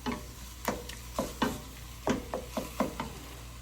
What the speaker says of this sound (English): We're just going to stir all this in. And we're going to continue to brown it and break up the hamburger.